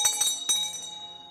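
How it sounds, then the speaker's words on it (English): A counter bell rung to call for payment at a succulent nursery shop, giving two or three quick metallic dings with a ringing tail close by. "Ring the bell."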